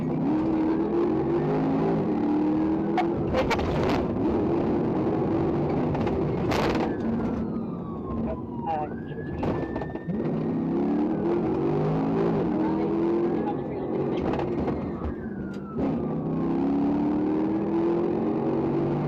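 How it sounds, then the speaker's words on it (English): An Audi fleeing a police traffic stop onto an exit ramp toward De Lesseps Avenue, with steady engine and road roar and a police siren wailing and rising through it, loud and continuous. "the Audi suddenly fled the stop, taking the exit ramp to De Lesseps Avenue"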